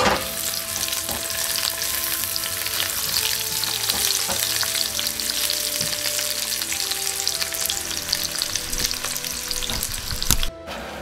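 Garlic and onion fry in hot oil for an udon and mung bean dish, a steady, close crackling sizzle with occasional stirring and no talking.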